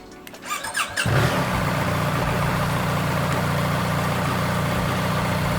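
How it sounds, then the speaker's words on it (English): A BMW R 1300 GS motorcycle engine cranks briefly and catches after about a second, then settles into a steady, even idle that runs to the end, close by, with no voices. "I have to turn on the bike. So I'm going to power up."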